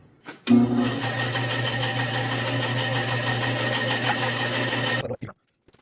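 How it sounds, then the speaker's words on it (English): A bandsaw runs through wood for a custom corner plant shelf, a loud, steady buzzing drone that starts abruptly, holds evenly for several seconds, then cuts off. "I'll just take this with a bandsaw, cut her down close"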